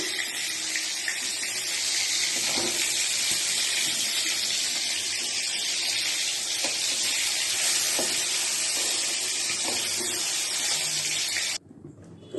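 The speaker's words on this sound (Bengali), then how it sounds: "মাছগুলো ভাজা হয়ে গেছে, বেশি ভাজবো না," Fish frying in mustard oil in a kadai, a steady loud sizzle with a continuous hissing wash and faint scattered pops, running unbroken for the whole stretch before cutting off abruptly near the end, no voices.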